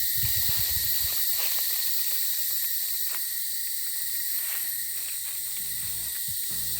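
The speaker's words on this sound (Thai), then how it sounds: "เสียงของหน้าร้อน เสียงของจักรจันทร์" Cicadas drone continuously in a summer forest at a national park campsite, a steady shrill hum with faint clicks and footstep-like rustles underneath, no voices.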